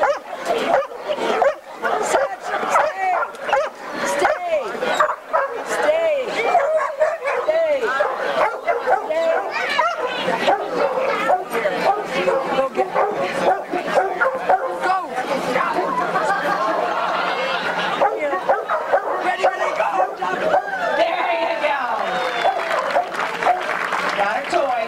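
Dogs bark repeatedly at a dock diving competition in Morton, Illinois, their barks ringing out over constant crowd chatter and scattered applause.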